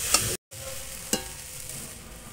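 Grated coconut fries in a pan while a spoon stirs it, giving a steady, soft sizzle with scraping strokes, one brief silent break and a sharp scrape partway through.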